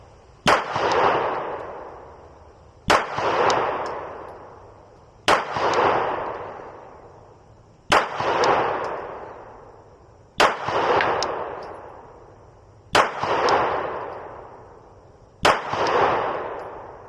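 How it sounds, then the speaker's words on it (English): Seven evenly spaced pistol shots from a Glock 45 and Beretta M9A1 at a shooting range, each a sharp crack followed by a long ringing decay, a couple of seconds apart. "Let's go ahead and put another 10 rounds down, 10 rounds on this group right here"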